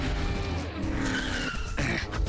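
A cartoon race car skids with loud, continuous tire squeal and engine noise, filling the full two seconds without a break.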